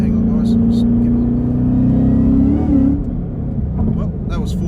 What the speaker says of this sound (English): Well, that was 4th gear spin.